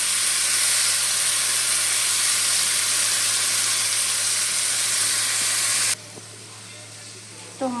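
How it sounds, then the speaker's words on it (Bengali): Spice paste stirred in a pan with potol (pointed gourd), a loud steady hissing sizzle close up that drops off suddenly near the end, leaving quiet background. "এবার পেস্টটা দিয়ে আমি এটাকে ভালো করে নাড়াচাড়া করে নেবো"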